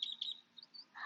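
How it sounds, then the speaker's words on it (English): Small birds chirping outdoors on a spring morning, a few high, thin calls repeating in short bursts, fairly faint and close, with no talking. "Gee, those birds are loud."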